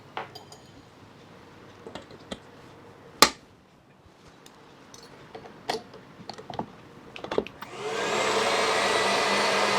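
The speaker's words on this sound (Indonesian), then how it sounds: "Kita kocok menggunakan kecepatan paling tinggi sampai kurang lebih 5-7 menit atau hingga kental." Electric mixer switched to its highest speed for whisking cake batter of eggs, sugar and cake emulsifier, preceded by scattered clinks and taps of kitchenware, then a loud, steady close-up whirring drone starting near the end.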